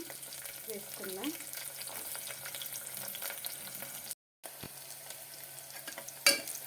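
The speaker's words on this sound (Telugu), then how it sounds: "ఇవి కొంచెం వేగాయండి." Green chilies and chopped onions fry in a pan with a steady close sizzle, punctuated by occasional stirring scrapes and a short gap of silence partway through.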